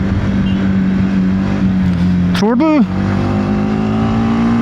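A TVS Apache RTX 300 adventure motorcycle is ridden with its dual-muffler exhaust producing a loud, steady, close engine drone that holds one pitch. A voice cuts in briefly partway through.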